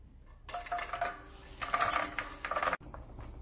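Small fried dough balls for struffoli tumble and clatter into a metal pan of melted honey, a busy scattering rattle lasting a few seconds with a brief pause near the end.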